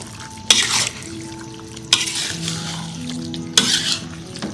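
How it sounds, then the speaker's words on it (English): Chicken varuval with soy sauce is stirred in a pot, three sharp scraping strokes against the metal over a low, steady background sizzle, close and clear with no talking. "Now I'm going to mix it again"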